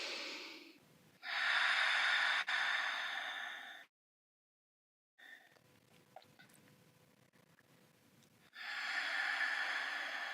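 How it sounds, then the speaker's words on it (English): Slow, deep breaths during a yoga core exercise, each long airy inhale or exhale close and steady, separated by a brief silent pause midway. "Just a few more breaths here."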